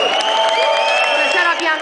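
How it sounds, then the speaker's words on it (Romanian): Clapping and cheering from an audience at a nightlife awards ceremony, loud and steady with whoops mixed in, under music-like tones and a voice talking. "Haideți să o aplaudăm!"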